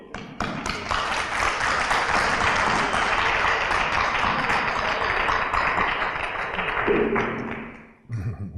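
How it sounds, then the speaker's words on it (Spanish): Audience applause at a talk, a dense sustained clapping from a crowd that fills the room for about seven seconds before fading, followed by a brief bit of handling noise. "Así que vamos a dar un aplauso para que tengan buen tiempo."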